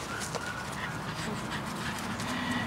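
A dog pants steadily and rapidly close by during obedience training, a continuous breathy rhythm without any barking.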